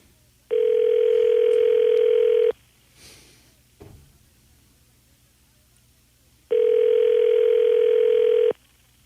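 Telephone on a radio call-in line ringing: two long, steady electronic rings about six seconds apart, loud and clear, with a faint noise and brief knock in the gap between them.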